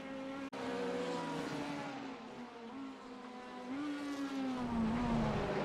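Race car engines roar in a sim racing league event at Imola, with a sustained high-revving whine that climbs and shifts in pitch as the cars accelerate and pass, loud and continuous, with no talk over it.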